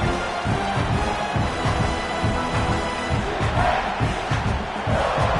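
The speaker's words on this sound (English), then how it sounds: "The roar of the crowd trying to fuel this defense to keep them pinned in their own end." A stadium crowd roars in the video game College Football 26, a dense, steady wall of cheering and chanting that swells slightly toward the end.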